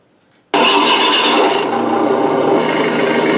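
An RC car engine sound simulator with an accelerator linkage and a single speaker kicks on abruptly at full volume, giving a loud, buzzy, rasping synthetic engine drone that holds steady, close and alone.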